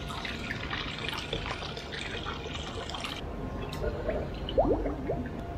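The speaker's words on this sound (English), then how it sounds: "Then we've just got to rinse that chrome solution off." Rinse water runs and trickles over a chrome-plated Haro BMX bike part to wash off chromic plating solution, a continuous watery pour with drips and small splashes, fairly close, slight clatter partway.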